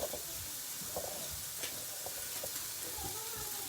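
Chopped ginger sizzles and hisses in a hot pan while being stir-fried, a steady close frying crackle with occasional scraping stirs throughout.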